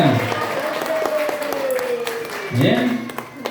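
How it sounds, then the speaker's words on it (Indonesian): An audience at an Islamic boarding school gathering bursts into applause, a loud burst of clapping swelling near the end while someone speaks over it through a microphone. "tepuk tangan"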